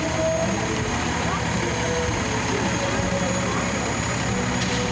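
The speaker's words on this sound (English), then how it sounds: "G90 engines are running." Steady broadband roar of GE90 turbofan engines on an airliner at Toronto Pearson airport, a continuous loud drone with low rumble and high whine running the whole time, with voices nearby.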